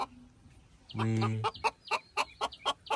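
An unusual-looking chicken clucks up close in a rapid run of short, evenly spaced clucks, just after a brief voice exclamation.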